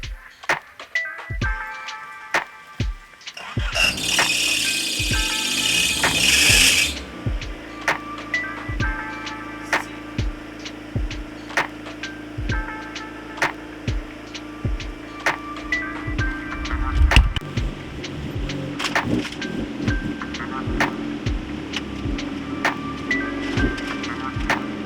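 A car engine cranks, fires and idles after its exhaust V-band clamp was fixed with a hose clamp. It runs loud and close with regular low pulses and ticking, plus a brief high squeal early on from a slipping power steering belt.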